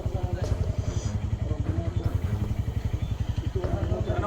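A motorcycle engine running close by during a police chase, a loud pulsing mid-low rumble with a steady rapid throb throughout, with voices talking over it.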